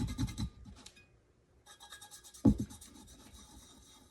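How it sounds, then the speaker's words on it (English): Glitter is rubbed onto a glow peekaboo tumbler, giving close, dry scratchy rubbing strokes in short bursts. A quiet pause and a sharp thump follow before the rubbing resumes. "As I'm rubbing this, some of the glitter is coming off, and that's perfectly fine with me."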